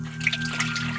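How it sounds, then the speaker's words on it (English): Water trickles and drips in a pond-sized pool flooding the inside of a hurricane-damaged Acura RSX. The faint, brief liquid patter sits over a steady low hum. "I have like an entire pond full of water"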